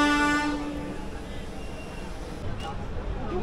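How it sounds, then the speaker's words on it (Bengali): Dhauli Express 12821 pulling out of Jaleswar station on the Kolkata–Puri run, a horn tone at the start giving way to steady rumbling train noise with crowd chatter throughout. "যদিও ট্রেন লেট, এখনই ট্রেন ছেড়ে দেবে"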